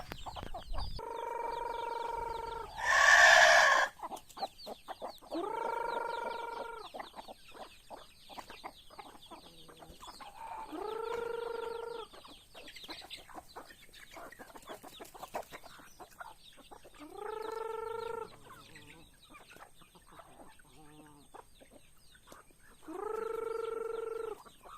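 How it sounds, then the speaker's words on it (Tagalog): Chickens being fed cluck and call in short, repeated bursts spread over the whole stretch, fairly close and moderately loud, with scattered scratching and rustling between the calls. "ipapakain na natin sa manok"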